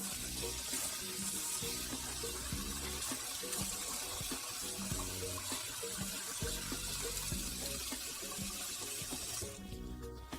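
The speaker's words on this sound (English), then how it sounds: "Wash it in the rice cooker, it's easy." Running tap water pours into a rice cooker pot as rice is rinsed, a loud, close, continuous splash and gurgle that eases off just before the end, with no voices.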